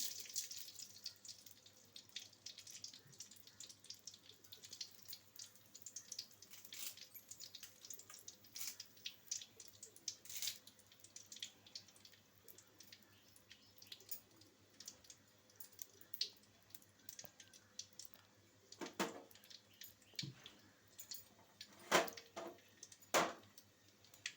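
Mustard seeds splutter in hot oil, making faint, scattered crackles and pops that grow denser and sharper toward the end. No one talks.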